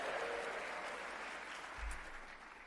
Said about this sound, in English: We should cheer for that, right?